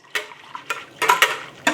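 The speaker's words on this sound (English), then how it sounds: "I'm gonna give it one more stir." A spoon stirs non-alcoholic Thanksgiving punch, giving several sharp, irregular clinks and swishes in a quiet room with no speech.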